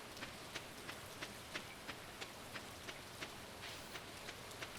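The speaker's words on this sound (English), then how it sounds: "Nothing like a rainy day." Rain falls steadily in the video game Stardew Valley, a soft low hiss carrying a faint, regular patter of drops that sounds at an even pace throughout, with no voices over it.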